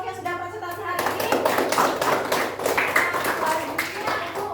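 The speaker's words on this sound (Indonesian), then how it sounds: "kita beri tepuk tangan untuk semua kelompok yang sudah presentasi hari ini" A classroom of children claps for the groups that have presented, a brisk, close burst of many small hands starting after the teacher's brief speech and continuing to the end.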